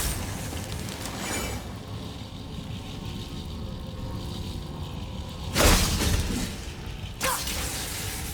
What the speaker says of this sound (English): Get tired of shattering things with this.